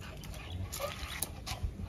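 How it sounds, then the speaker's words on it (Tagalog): A dog makes short, fairly faint vocal sounds on a farm, a few brief yelps or barks at a distance with no talk. "Ayun na naman ang matapang na aso."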